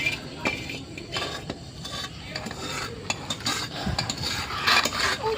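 A spoon scrapes and clinks in a bowl while ingredients and spices are mixed together for a homemade jambu preparation, giving irregular close stirring and scraping sounds over a faint background hum.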